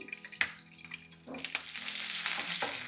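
Garlic and green chillies frying in hot oil in a home kitchen, a soft sizzle that swells to a steady, louder crackle after a few stirs, with no talking.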